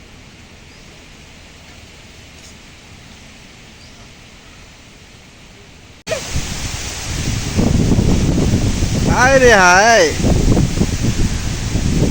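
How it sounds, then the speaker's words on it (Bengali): Strong wind blows across a sandy river char. A quiet stretch gives way to loud, steady buffeting wind roar, and a voice exclaims briefly in the middle of it. "রোদের সাথে সাথে বাতাস, প্রচণ্ড বাতাস"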